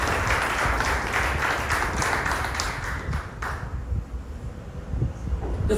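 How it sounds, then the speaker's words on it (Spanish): Church congregation applauding together, a dense sustained clapping that stays loud and then thins to scattered claps toward the end. "Denle un aplauso"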